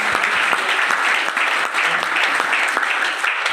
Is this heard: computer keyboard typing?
no